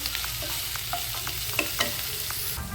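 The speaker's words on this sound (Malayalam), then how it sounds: "ആവശ്യാനുസരണം ഉപ്പും കാൽ സ്പൂൺ മഞ്ഞൾപ്പൊടിയും കൂടി ചേർത്ത് നന്നായിട്ടൊന്ന് വഴറ്റി കൊടുക്കണം" Sautéing in a pan with salt and turmeric powder for a coconut egg curry, with loud continuous frying sizzle and quick rhythmic spoon-scraping stirs up close.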